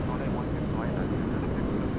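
A plane lining up on the runway at Sydney Airport, its engines a steady, loud broadband roar that fills the whole stretch with no pauses.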